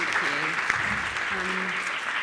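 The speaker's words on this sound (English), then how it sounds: "can I just ask for a vote of thanks, a round of applause for our panelists?" Audience applause for panelists at the close of a panel discussion on PTLD diagnosis and prevention, a steady wash of clapping with faint voices murmuring underneath.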